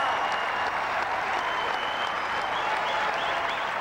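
Cricket crowd at the SSC ground in Colombo applauding a boundary during the 1993 Sri Lanka v England Test, steady dense clapping sustained throughout at an even, fairly distant level.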